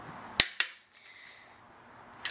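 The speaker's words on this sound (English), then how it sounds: "we're gonna torque it to 51 foot-pounds, alphabetical sequence" A torque wrench clicks twice in quick succession as it reaches 51 foot-pounds while tightening a bolt on a 2007 Subaru Impreza 2.5i SOHC engine block, followed by quiet and then another faint click-like sound near the end.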